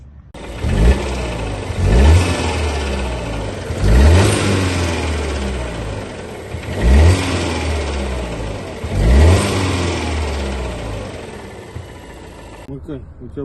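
A Geely car engine, said to squeak and knock, revs in four or five repeated surges with pauses between them. It is close and loud, and someone speaks over it.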